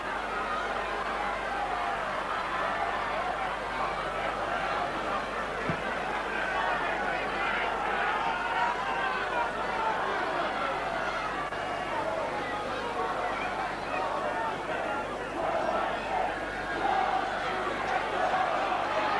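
Castleford supporters cheering at a rugby league match against Widnes, a steady, broad roar of crowd noise sustained throughout with no clear breaks.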